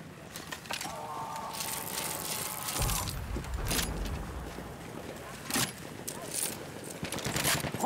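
Rapid light machine gun fire in a Battlefield video game, with bursts of shots amid chaotic battle noise and a brief whining tone, loud and close, with occasional voices under the action.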